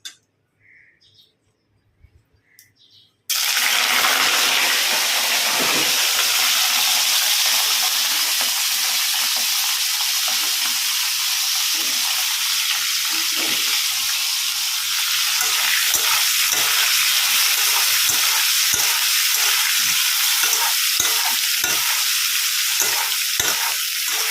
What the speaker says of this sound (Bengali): তেল গরম হয়ে গেছে এবার আমি ফুলকপিটা ভাজতে বসিয়ে দিই